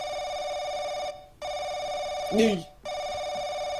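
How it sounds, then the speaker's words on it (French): A telephone rings in the horror video game Paranoiac, loud electronic bell bursts with two short pauses, while a person says a single word partway through. "C'est reparti pour du téléphone."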